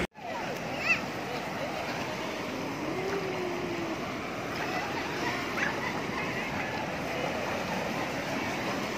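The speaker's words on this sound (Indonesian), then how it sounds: "Ombaknya terlalu gede." Big ocean waves at Indrayanti beach in Gunung Kidul, Yogyakarta, make a steady, broad rushing surf that fills the whole stretch, with voices faintly audible in the mix.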